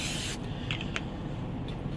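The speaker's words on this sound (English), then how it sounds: "So let me spray a little bit in my pan." A short hiss of extra virgin olive oil sprayed from a can into a pan, a brief bright burst at the start, followed by faint clicks and handling noise over a steady background hum.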